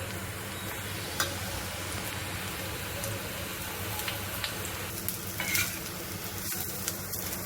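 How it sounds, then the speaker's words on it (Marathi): Onion and grated coconut roasting in a pan for Kolhapuri misal crackle and sizzle steadily, with occasional spatula taps and stirring scrapes close by, with no speech. "आता यामध्ये आपण खोबरं घालून द्यायचं आहे खोबरं आहे ते पण चांगलं भाजून घ्यायचं"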